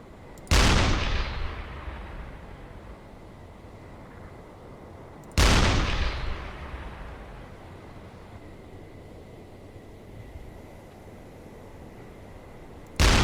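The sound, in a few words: U-boat deck gun firing shells in UBOAT video game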